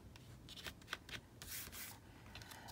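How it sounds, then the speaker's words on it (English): A hand rubs glued paper down onto a junk journal page, giving soft, uneven papery swishes and scrapes in short strokes, close and quiet. "I'm just going to rub it in here"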